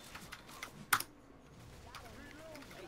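Clicks from a fancy computer keyboard during a Left 4 Dead 2 session, with one sharp loud keystroke among quieter taps and a person talking underneath.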